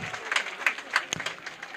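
Audience applause from a school gathering, a brief burst of scattered hand clapping with a few sharper individual claps, moderately close and not very dense.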